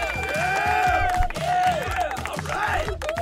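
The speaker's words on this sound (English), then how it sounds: "let me wait for the clapping to stop" A live-stream crowd claps and cheers in a busy, continuous wash, with a voice over it sounding repeated rising tones, all fairly loud and dense throughout.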